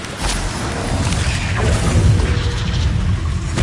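Bombarda spell blasts in Hogwarts Legacy land as heavy, booming explosions with crashing debris, a loud rumbling impact that rolls on for a few seconds with no voices.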